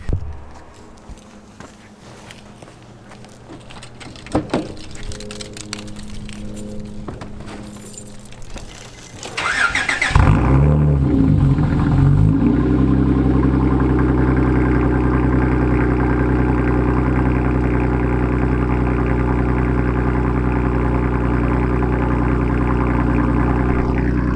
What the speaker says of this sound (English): the loud ass exhaust from the Accord